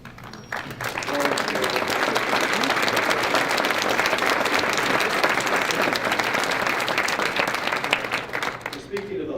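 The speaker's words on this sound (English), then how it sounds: "please stand up also, staff and everyone else, and give you a round of applause" An audience at a City of Albuquerque mayoral news conference applauds for about nine seconds. The clapping is steady, dense and loud, holding evenly from start to finish, with some crowd voices mixed in.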